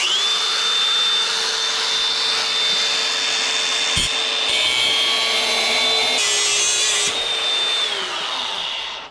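A power tool loosens bolts in the Battery #1 basement of the Acme Steel coke plant in Chicago, a loud, steady, high whine with a rushing roar running almost nine seconds, broken by brief sharp knocks and shifts in pitch.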